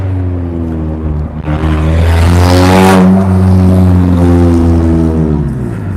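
A car with a loud muffler revs hard, its deep rumbling exhaust building to a roaring peak and then easing back down, close and loud with no one talking.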